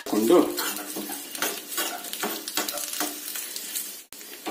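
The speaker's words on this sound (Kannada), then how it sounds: "ನಂತರ ಒಂದು 15 ಕರಿಬೇವಿನ ಸೊಪ್ಪನ್ನು ಹಾಕಿ ನಾನಿಲ್ಲಿ ಬೇಡಿಗೆ ಮೆಣಸಿನಕಾಯಿ ಚೂರು ಮಾಡಿ ಒಂದು 3-4 ಹಾಕೊಳ್ತಾ ಇದ್ದೀನಿ" Curry leaves and chopped byadgi chillies sizzle and crackle in hot oil for a curd rice tempering, a steady close frying hiss with stirring scrapes and a brief metallic clink near the start, no voices.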